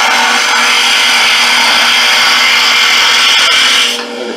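A wood lathe with a duplicator (copier) attachment turns a wooden workpiece while a lathe tool cuts it. The loud, steady grinding whir runs unbroken for about four seconds, then drops away.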